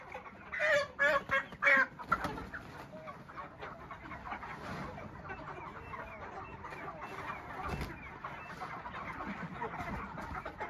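Chickens and roosters in a farm shed cluck and squawk loudly and close at first, then keep up a busy, softer clucking chatter with scuffling movement.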